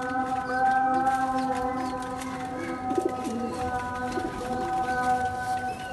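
Sailkoti pigeon cooing in a quiet indoor setting, soft low coos repeating over a steady background hum, with no speech.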